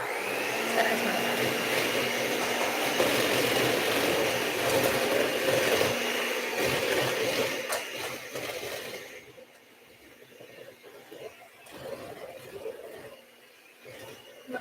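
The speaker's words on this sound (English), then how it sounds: "I would like to have the blender going when I put in the vanilla." A blender runs steadily while mixing gluten-free pineapple upside-down cake batter, a loud continuous motor whir for about eight seconds before dropping to a quieter, uneven churn.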